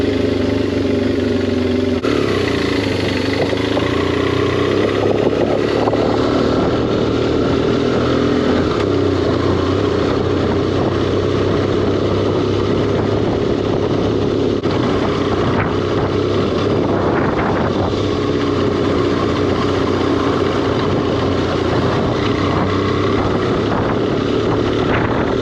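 A 2009 BMW F800S motorcycle engine runs steadily and loud nearby for the whole stretch, its low drone mixed with wind buffeting on the microphone and a few swells as the revs change.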